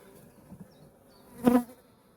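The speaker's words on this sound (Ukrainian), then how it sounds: "Ось така кількість бджіл" A brief swell of honey bees buzzing around a hive at a forest apiary rises and fades within a couple of seconds, with faint low hum and quiet background around it.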